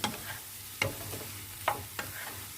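Luffa gourd with egg and egg tofu stir-frying in a pan, a quiet steady sizzle broken by a few sharp scrapes and clacks of the spatula as it is stirred.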